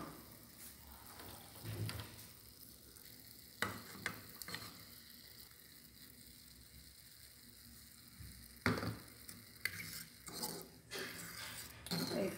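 Egg broth (caldo de ovo) thickened with a spoonful of flour being stirred in a pot, soft bubbling and simmering with sharp intermittent clinks and scrapes of a spoon against the metal, fairly quiet.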